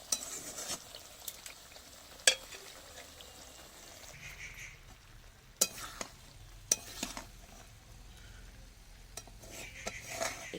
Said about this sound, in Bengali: এইবার এখানে মশলা কষছি নিরামিষ তরকারির জন্য